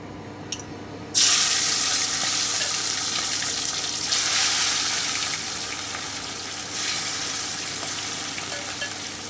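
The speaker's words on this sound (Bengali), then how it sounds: "সামান্য একটু গরম জল দিয়ে ধুয়ে নিচ্ছি" Hot water running from a kitchen tap while something is washed in a sink, a steady broad hiss that surges a few times and keeps going throughout, with no talking.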